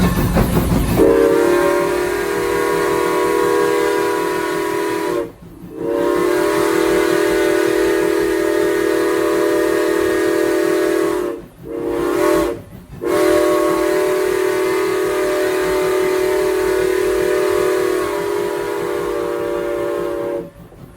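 Steam whistle of Strasburg Railroad locomotive 475 blowing loud and long in three sustained blasts with short breaks, heard close by from trackside, with no voices.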